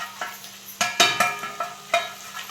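Onion, garlic and masala frying in a pan at home, with soft sizzling under a series of sharp clinks and scrapes of a spoon stirring against the metal pan, close by, with no speech.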